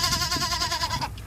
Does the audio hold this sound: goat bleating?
yes